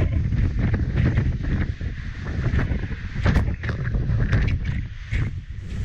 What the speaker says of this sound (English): Those are hurricane winds.